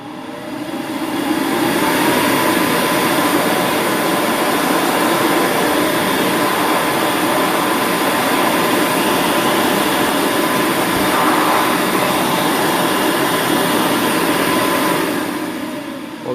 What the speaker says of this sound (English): I'm just going to turn it on so you can hear it spin up